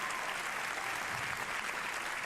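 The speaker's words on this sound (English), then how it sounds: "They're clapping." Audience applause at Ubisoft's E3 2019 presentation, a steady even wash of clapping from a large crowd filling the whole stretch at moderate level, with no voices over it.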